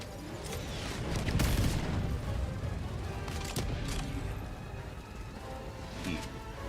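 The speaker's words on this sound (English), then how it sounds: "Autocannon." Autocannon fire in a video game, a few heavy booming shots with rumbling tails over a steady background din.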